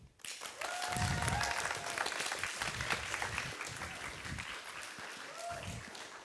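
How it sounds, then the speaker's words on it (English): Warm audience applause at a Pride PechaKucha night, starting sharply, then holding steady and dense before slowly thinning, with a faint whistle or two rising above it. "Please, everyone, give your energy and a warm applause to Eilif"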